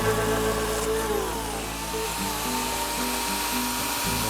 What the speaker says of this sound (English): Now with this cut I was a little bit leery because I had to hold the chainsaw at slightly awkward angle